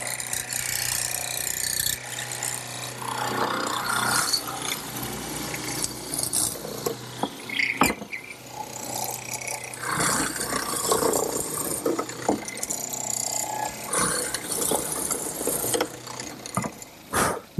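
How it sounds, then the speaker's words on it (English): Mortiser fitted with a 1/2-inch chisel cutting mortises into a wooden table rail, giving repeated ratcheting, grinding strokes with sharp clunks as the chisel plunges and withdraws, close and steady throughout. "I've set up my mortiser with a 1/2-inch chisel, and to the depth I want"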